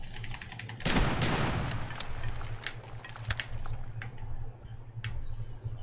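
A shotgun fires in a video game, one loud blast followed by quieter clicks and mechanical rattles of reloading, then a couple more sharp reports.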